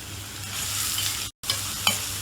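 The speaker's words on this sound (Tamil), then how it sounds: "ஆயில் சூடாயாச்சு. நம்ம இப்ப ஆனியன் சேர்க்கிறோம்." Chopped onions, two medium ones, sizzle and fry in hot oil in a pan while being stirred for chicken cutlets, a steady hiss with a brief break and a scrape near the end.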